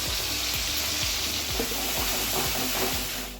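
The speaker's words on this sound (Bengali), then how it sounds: "এই পেস্টটাও এখন এর মধ্যে দিয়ে দেবো" Ginger, garlic, onion and green chilli paste fries in a pan, giving a loud, steady sizzle with hissing oil and repeated low scraping knocks from stirring throughout.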